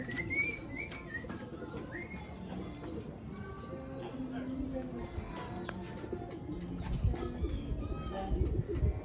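Racing pigeon cooing on arrival at its loft after a 233 km race, soft low coos repeating amid other birds chirping and whistling nearby, with background voices and ambient yard noise.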